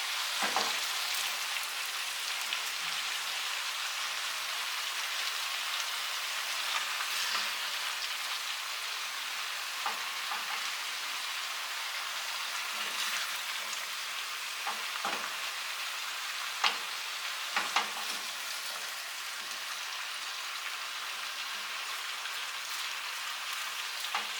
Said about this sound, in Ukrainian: Овочі наші закинули. Ну і тепер вжарюємо їх.